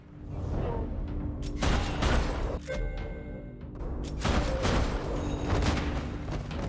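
Gunfire in the video game Max Payne 3 on Xbox Series S comes as loud, dense bursts of shots and booms, clustered around the start, middle and end with brief lulls between.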